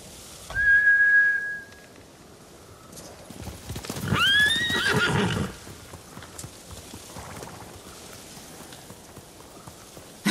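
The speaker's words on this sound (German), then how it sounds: "Die Hunde haben die Pferde verjagt. Das sind Samurai-Rösser." Horses in the video game Ghost of Tsushima gallop with quick clip-clop hoofbeats, and two loud, rising neighs cut through the run, one early and one in the middle.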